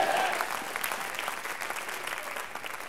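Church congregation clapping hands during a sermon, a sustained crowd of claps that fades slightly over a few seconds, with faint voices mixed in.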